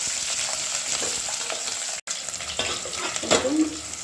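Onions frying in a pan for chicken pulao, a steady close sizzle with bursts of stirring and a brief dropout midway; no talk.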